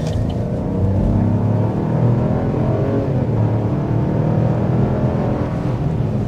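A 2024 Buick Encore GX Avenir small SUV's engine pulls smoothly from inside the cabin as it accelerates, a steady low drone rising gently in pitch without distinct gear shifts.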